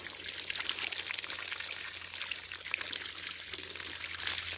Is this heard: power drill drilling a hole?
no